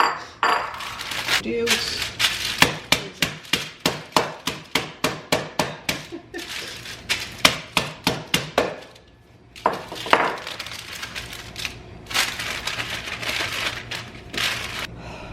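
Rapid, steady hammer blows crushing almonds on a hard surface, a long run of sharp knocks, a short pause, then more scattered strikes.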